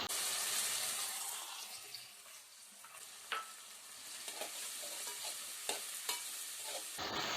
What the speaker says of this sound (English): We will saute this till the tomatoes are cooked.